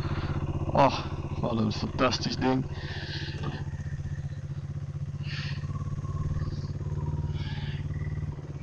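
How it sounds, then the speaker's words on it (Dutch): A single-cylinder motorcycle engine fires up after a few sputtering cranks and settles into a steady, low, pulsing idle nearby, with a person briefly speaking early on over the start. "dan gaan we die prachtige 1-cilinder maar eventjes starten"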